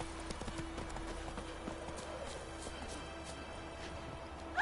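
A brown horse's hooves clip-clop steadily on the ground in the video game The Witcher 3: Wild Hunt, a continuous rhythmic trot over a dense game soundscape with no talking.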